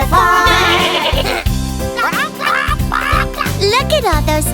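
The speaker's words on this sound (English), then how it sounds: "The goat on the tractor goes meh, meh, meh, all around the farm." Cartoon goat bleats from a nursery-rhyme farm song about a goat riding a tractor, repeated bleats sounding over a bouncy musical backing, close and loud.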